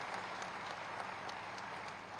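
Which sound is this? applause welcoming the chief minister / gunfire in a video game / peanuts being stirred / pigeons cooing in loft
applause welcoming the chief minister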